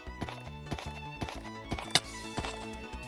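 Horse hooves clip-clopping in the Minecraft video game, a rapid uneven run of light hollow taps with one sharper knock partway through, heard over a quiet tonal game music bed; no one speaks.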